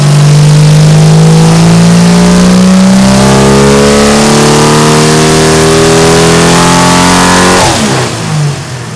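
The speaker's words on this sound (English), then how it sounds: "On the dyno, the engine ran well" A smooth Jeep straight-six stroker engine revs steadily upward on a dyno for several seconds, loud and close, its tone climbing evenly before cutting back near the end.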